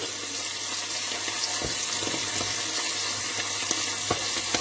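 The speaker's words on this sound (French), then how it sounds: "juste pour dire de le dorer un peu, dans du beurre bien chaud" Rabbit pieces browning in very hot butter in a pan, a steady loud sizzle with small pops and crackles throughout, no talk.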